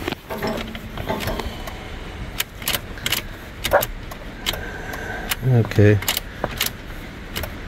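Keys jangle and click in the ignition of a 2013 Ford F150 with a fault, with brief mechanical clunks as the key turns, but the engine never catches; someone speaks briefly over the close handling noises.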